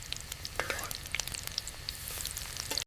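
Raw banana slices coated in masala fry in hot oil, a steady close sizzle with crackling pops and bubbling spits running through the whole stretch, with no voices.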